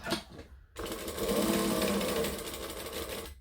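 A sewing machine stitches fabric in a steady fast whir, starting after a short pause of quiet and running evenly to the end, close and alone without talk.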